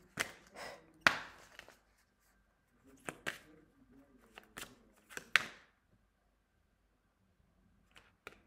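Playing cards are shuffled in a quiet room, giving several short riffling bursts and sharp snaps spread unevenly over the span, close by with no talking.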